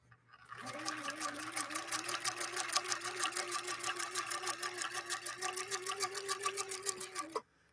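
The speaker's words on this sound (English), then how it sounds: "I'm sewing on velvet using a leather needle" A Viking Husqvarna 19E sewing machine runs a steady zigzag stitch through velvet with a leather needle, a fast continuous mechanical chatter of rapid even needle strokes, close and loud, starting and stopping cleanly.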